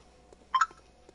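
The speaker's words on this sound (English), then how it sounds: "I got a snap." A Snapchat notification chime sounds on a phone, a short pair of bright electronic tones near the middle, fairly close, with faint soft ticks before and after in an otherwise quiet room.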